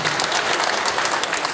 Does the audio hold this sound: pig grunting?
no